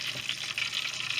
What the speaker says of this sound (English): You see it's bubbling?